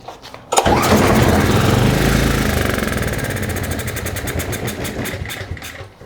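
A Craftsman 5600 watt generator engine fires up on starting fluid, catching suddenly and running loud and close with a rough, steady roar that gradually slows and sputters toward the end.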